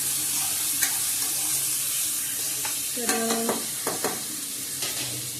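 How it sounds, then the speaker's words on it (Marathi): Onions fry in a pan with a steady close sizzle, while a few clinks and scrapes of a utensil break through toward the end. "कांदो भाजून घ्यायचं"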